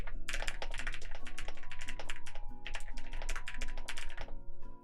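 Quick, clicky keystrokes from fingernails tapping a computer keyboard, fairly steady and close, over a sustained background tone.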